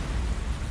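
Steady rain hisses and patters evenly throughout, a dense continuous wash of drops on surfaces with no pauses and no voices.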